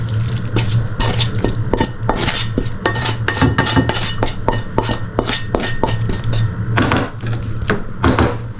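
An onion mixture is stirred and mixed in a pan; a metal utensil clinks and scrapes against it in quick, irregular strokes, loud and close, with no talking.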